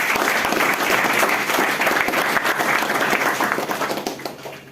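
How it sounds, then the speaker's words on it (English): A hall audience breaks into sustained applause at a school induction program, a dense, even wash of many hands clapping together that fades slightly toward the end. "So clap for yourself."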